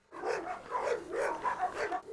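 Female dogs barking and yipping in a rapid, restless series of close, moderately loud bursts with no talk over them.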